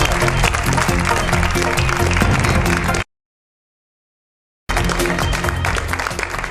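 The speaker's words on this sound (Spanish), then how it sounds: "Un aplauso para Jordi Évole." Studio audience applauding on a Spanish TV show, a loud dense burst of clapping that cuts out abruptly to silence for over a second, then resumes just as strongly.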